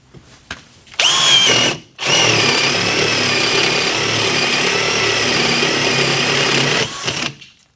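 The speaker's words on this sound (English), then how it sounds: "now I have a 7/8 spade drill" A KIMO T-20 cordless drill bores with a 7/8 spade bit, whining up after a brief start and holding a loud, steady high-pitched drone for about six seconds before spinning down.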